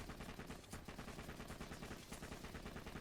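A very high fire-rate gun called the Infinity Gub fires in a video game, a quiet but unbroken stream of rapid shots that rattles on for about three seconds.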